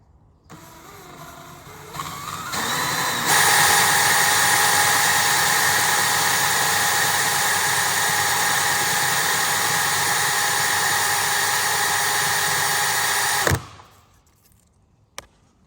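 A mobility scooter motor spins on a slow setting while sandpaper is held against it, a loud steady whirring drone that ramps up, runs about ten seconds and then cuts off abruptly.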